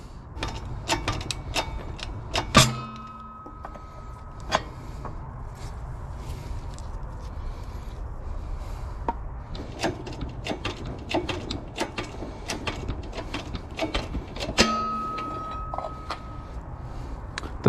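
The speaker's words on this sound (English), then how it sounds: "I'm using a, what is this, 22mm socket" A 22mm socket wrench working on old bushings of a K20a2-swapped EF sedan, a long run of repeated metallic clicks and clinks, with a few louder knocks of metal on metal; no talking.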